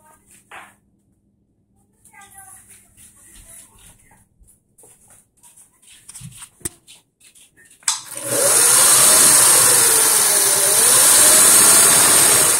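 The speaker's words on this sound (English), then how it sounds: "So if you like these old school sewing machines, here you go." Singer Touch and Sew 600E sewing machine starts up after some quiet handling noises and a few clicks, then runs loudly and steadily as a bright continuous whir for the last five seconds.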